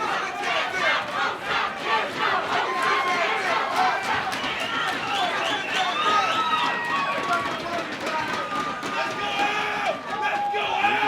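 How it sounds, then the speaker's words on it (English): A boxing crowd at the Alex Perez vs Francisco Figueroa fight shouts, chants and cheers in a loud, continuous wave of overlapping voices and chatter. "The crowd obviously into this fight."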